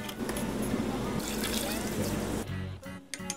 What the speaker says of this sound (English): Pour the brine on once it's simmered for 4 minutes